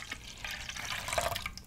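A water and yeast mixture pours into a large mixing bowl while soft pretzel dough is being made, giving a soft, steady liquid splash and trickle that stays quiet and close.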